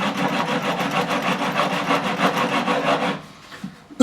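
A hand file rasps in a steady back-and-forth rhythm, beveling the fret edges on a 1957 Hofner President guitar during a refret; the strokes run evenly for about three seconds, then stop, leaving a few faint knocks.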